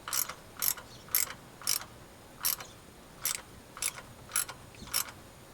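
Small wrench ratcheting on a water pump bolt of a 1992 GMC truck, about ten crisp evenly spaced clicks, close and clear against a quiet background.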